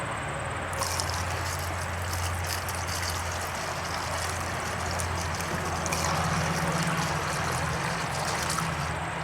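Washer fluid poured into the windshield washer reservoir of a 2002 Mitsubishi Lancer, a steady trickling and gurgling pour that runs continuously and close by, with no talk.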